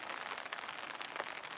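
Rain falls steadily outdoors, a soft, continuous hiss of drops with a few slightly sharper patters, faint and without any voices.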